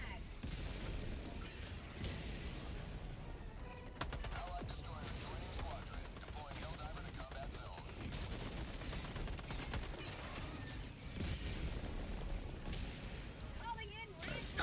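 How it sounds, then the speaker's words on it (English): Mortar barrage exploding in Helldivers on the Hellmire planet: dense, continuous rumbling blasts and rapid gunfire crackle throughout, loud and close, with a voice talking over the combat. "Our mortar barrage should be about done here."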